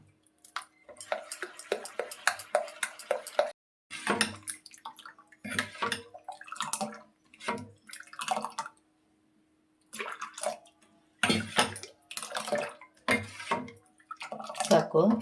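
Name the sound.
mixing neer dosa batter with water in a bowl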